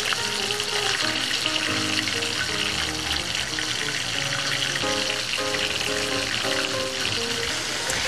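Skin-on fish fries in a hot pan, a loud continuous crackling sizzle that stays dense and steady throughout while soft background music plays underneath.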